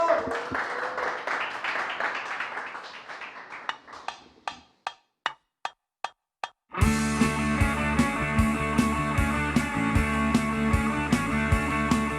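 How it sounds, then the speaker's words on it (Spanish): Audience applause for Leslie Grun on a TV show: a dense crowd ovation thins to a few scattered single claps, then a band abruptly starts playing loud music. "El aplauso para Leslie Grun."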